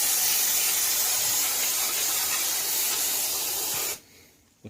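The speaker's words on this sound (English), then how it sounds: "We'll take some compressed air." Compressed air blasts over parts from a 1987 John Deere SX75 riding mower, a loud, continuous close hiss that cuts off abruptly near the end, leaving quiet.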